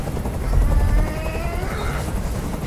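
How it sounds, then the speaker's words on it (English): A helicopter in the video game Detroit: Become Human, its heavy rotor thrum and turbine whine hovering steadily nearby throughout without speech. "I can't stand that noise anymore. Tell that helicopter to get out of here."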